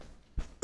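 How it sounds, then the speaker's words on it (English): A single loud cough bursts out sharply near the end, preceded by a softer throaty sound, close to the microphone with no talking. "Oh, that was a loud ass cough."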